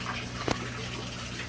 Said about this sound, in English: I'm draining the water out the bottom right here